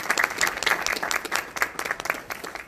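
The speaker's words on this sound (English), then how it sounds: "please join me in applauding my colleague, Brenda Scott Henry, for her leadership here in Gary" A conference audience at a green urbanism event in Gary applauds with brisk, dense clapping that swells and fades slightly, heard close and alone.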